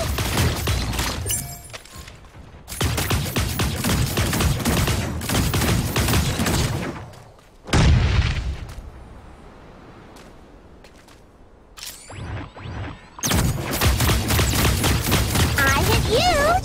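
Rapid bursts of gunfire from the mecha battle game Super Mecha Champions, loud and dense, broken by a short lull and a near-silent stretch before heavy firing resumes, with players' voices mixed in.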